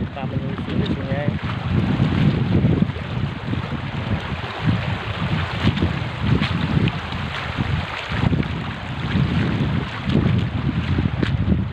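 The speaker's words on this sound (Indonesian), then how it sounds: "Dan inilah aliran sungainya." A river flows below the Bendo dam near Ngindeng village in Sawoo, Ponorogo, a steady rushing wash mixed with wind buffeting the microphone, with no break in the sound.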